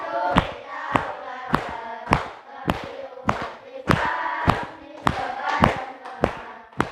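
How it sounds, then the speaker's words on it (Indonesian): A group of people claps in unison at an Islamic-themed classroom teaching session, about twelve sharp, evenly spaced claps in steady rhythm under a chanted group recitation. "Kita coba bersama-sama sambil tepuk tangan supaya semangat."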